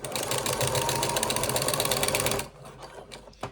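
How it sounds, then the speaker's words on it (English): A sewing machine stitches around the side of a zipped project bag, a fast, steady mechanical whir with rapid needle clatter that runs for a couple of seconds before stopping abruptly, followed by faint handling clicks. "I am just going to stitch all the way around one side"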